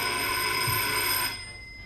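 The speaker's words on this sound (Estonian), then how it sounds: "telefon" A telephone bell rings steadily in a 1971 Estonian television comedy scene, a continuous bright ring that cuts off sharply near the end and leaves a quieter room tone.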